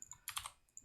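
Quick typing on a computer keyboard, a short burst of soft close key clicks with a tight cluster of taps in the middle, heard alone.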